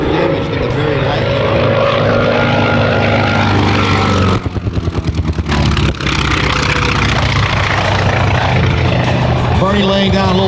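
A WWII warbird makes a low strafing pass over the infield at an airshow, its propeller engine a loud, sustained roar that peaks and recedes. A commentator talks over it throughout.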